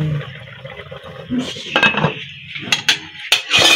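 Metal pot and utensils clank and scrape while cooked sinigang is lifted out, several sharp clinks and knocks in an irregular rhythm, close by.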